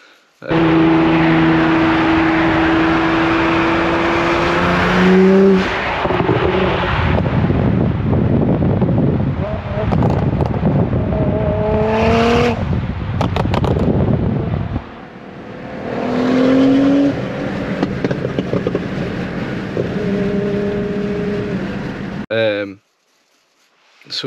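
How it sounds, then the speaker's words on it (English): A Nissan GT-R sports car driving past with a rising engine roar under heavy wind buffeting, loud and close on a small action camera, swelling and fading in several passes over about twenty seconds. "Got a few footages of my friend's GTR the other day."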